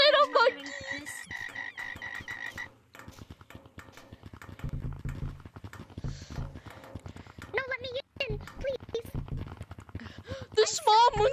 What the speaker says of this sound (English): We're being under attack by frog!